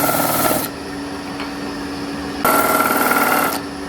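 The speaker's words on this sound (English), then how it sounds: "I'll just give it a gentle sand until it's nice and flat." A small wooden piece is rubbed by hand on 240 grit sandpaper fixed to an MDF pad, giving two loud bursts of fast, buzzing back-and-forth strokes separated by a quieter pause.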